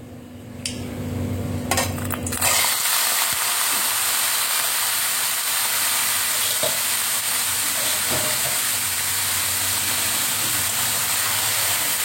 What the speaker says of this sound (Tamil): நல்லா எல்லா பக்கமும் எண்ணெய் படுற மாதிரி கிளறி விட்டுட்டு கொஞ்ச நேரம் வச்சிடணும்.